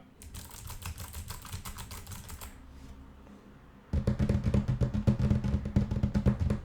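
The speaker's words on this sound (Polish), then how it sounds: "Pisanie na klawiaturze." Rapid clicking of computer keyboard keys, softer at first, then a brief pause before louder, closer, denser typing bursts.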